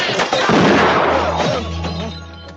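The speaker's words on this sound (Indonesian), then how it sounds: "Mereka berhenti ketika mendengar suara tembakan dari Sin." A loud gunshot in the 1992 film Casino Tycoon 2 cracks and booms, followed by a rumbling echo and muffled clatter, dramatic and close.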